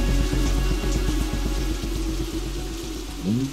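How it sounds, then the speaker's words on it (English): Rain patters steadily in the Minecraft video game, a soft, even wash of droplets with faint watery dripping, with a short rising tone near the end. "Let's wait here till the rain stops!"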